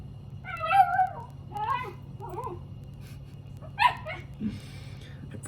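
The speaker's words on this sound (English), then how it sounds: "I promise, guys, that's not a monkey, that's my dog." A pet dog gives several high, wavering whimpers and yelping barks in short bursts indoors, close and fairly loud over a steady low hum, with pauses between the cries.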